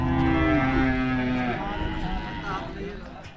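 A cow lets out a long, loud moo close by, over a background of general crowd noise at an agriculture and dairy exhibition.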